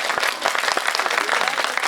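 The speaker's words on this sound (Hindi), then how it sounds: "एक बार जोरदार तालियां बजा दो।" A theatre audience at a Hindi comedy show claps loudly, a dense continuous burst of many hands applauding close and steady for the whole short stretch.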